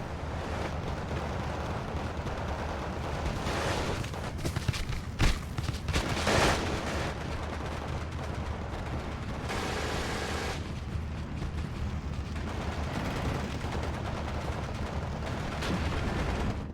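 Mortar and small-arms fire in the wartime strategy game Steel Division 2, a steady rumbling barrage with a cluster of sharper blasts near the middle and a longer burst later, continuous throughout with no talking.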